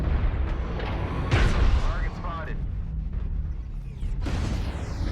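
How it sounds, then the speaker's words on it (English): Trees toppling and crashing in the mech combat game MechWarrior Online, heavy booming thuds and cracking bursts around the middle and again near the end, set against continuous low rumble and battle noise. "Lots of trees toppling."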